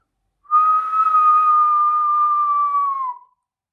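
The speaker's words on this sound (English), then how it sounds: "So the proper way to whistle," A single loud, sustained whistled note, steady in pitch, held for nearly three seconds and dipping slightly at the end, clear and close.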